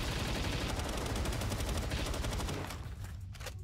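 Rapid gunfire in Palworld empties a full magazine in a dense, loud burst lasting about two and a half seconds, then tails off into quieter clatter and scattered shots.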